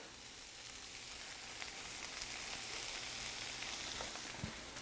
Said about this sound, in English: Turn the heat back up. And we're gonna just put just a little bit of spinach in here on top.